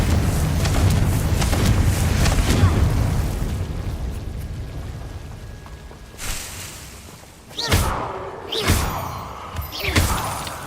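A Confringo blasting spell in Hogwarts Legacy bursts with a rumbling explosion that fades slowly, followed by several sharp magical whooshes and pops spaced a second or so apart, loud and close.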